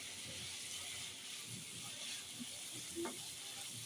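Bhaji frying in a pan makes a soft, steady sizzle and hiss near the cookware, with faint clinks and stirring sounds.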